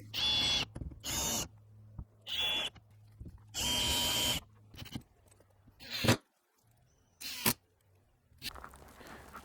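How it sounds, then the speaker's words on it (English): A power drill with a self-centering drill bit whirs in several short bursts with pauses between while building an outdoor storage box, followed by a couple of sharp knocks and light clatter nearby. "So if you've never tried one of these self-centering drill bits"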